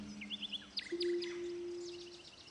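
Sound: bird flying by in the audio video game Sonar Islands

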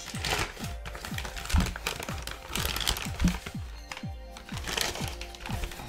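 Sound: kraft paper packaging being unwrapped and crinkled

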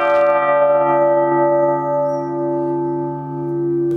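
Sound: church bell ringing

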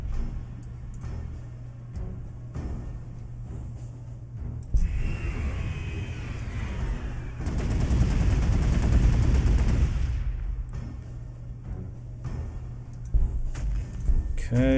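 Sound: gunfire volleys in video game Warhammer 40k: Gladius

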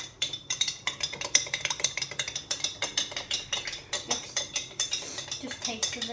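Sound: spoon stirring a milkshake with milk and sriracha

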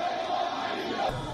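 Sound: crowd shouting down a speaking cleric

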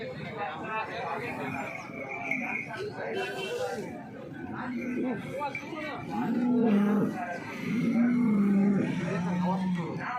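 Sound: cow at the Sangola cattle market

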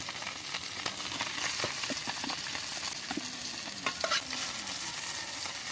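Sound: fish frying in a pan

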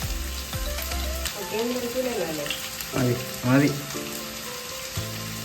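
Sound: onions frying in oil for biriyani

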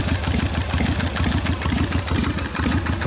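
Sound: 1971 Harley-Davidson Shovelhead rat rod engine idling

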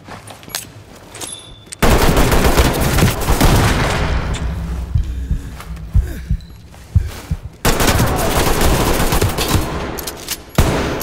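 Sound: gunshots in the video game Ready or Not

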